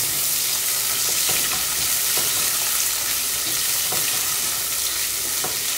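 Onion and pounded garlic sautéing in a little oil for a chicken back ribs soup, a steady close sizzle with occasional light stirring scrapes, no voices.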